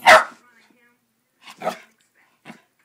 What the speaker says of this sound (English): No barking, use your words.